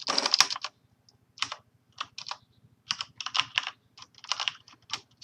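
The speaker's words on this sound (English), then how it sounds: "And so first I'll type help push." Someone types a command on a computer keyboard while setting up Transifex string pushing for an Android project. Quick clusters of crisp key clicks come in irregular bursts separated by short pauses, close up, with no speech.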